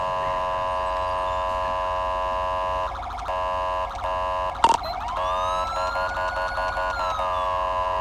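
Ambulance siren from the GTA 5 video game, a loud steady electronic wail with stacked tones that briefly cuts out, jumps, then sweeps up and holds a long rising-falling tone, sounding close and continuous throughout.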